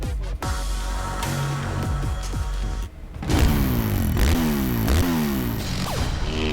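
Rally motorcycles on a desert sand-dune stage roar past with rising and falling revs, engines sweeping close by with Doppler whooshes and some clatter, loud and continuous with no talk.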